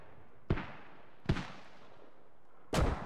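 Mortar fire in the video game Squad: three separate sharp booms, each trailing off in a short rumble, with quiet gaps between them.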